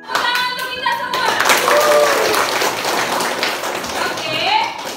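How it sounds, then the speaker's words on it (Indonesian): Classroom of children clapping together in lively applause, a brisk, dense patter of hands with voices calling out over it, near and fairly loud. "Tepuk tangan untuk kita semua."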